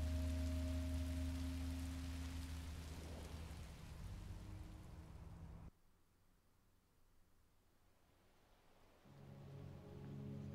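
Steady rain in Minecraft Story Mode, a soft continuous hiss under low tones and music that drops away midway and then returns.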